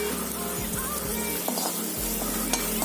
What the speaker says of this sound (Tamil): எண்ணெய் ஊற்றி வெங்காயம் போட்டுக்கோங்க.